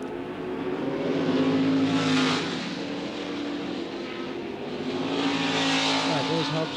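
Several 1972 Tasman Series open-wheel race cars sweep past on the track one after another, their engines rising and falling in a sustained loud drone, while a commentator talks over the passing noise.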